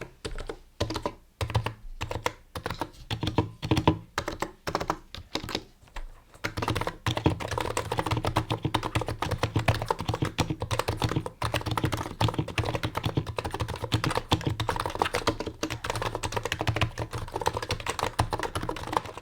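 Typing on a NiZ Atom 68 electro-capacitive keyboard from 2019: soft, muted keystrokes in uneven bursts at first, then dense continuous typing, close and fairly quiet.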